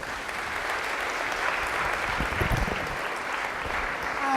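Sustained crowd applause at a women's mayoral forum in Chicago, a steady even wash of many hands clapping throughout at moderate volume.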